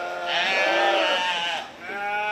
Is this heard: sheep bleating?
yes